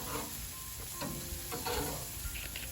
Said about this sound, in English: sizzling on the outside, just like that